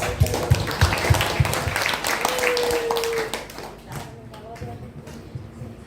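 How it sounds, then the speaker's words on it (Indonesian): An audience claps at an education seminar on competency-based curriculum innovation, with brisk, uneven hand claps near the start that soon thin out beneath ongoing talk in the room. "Boleh tepuk tangan dulu biar"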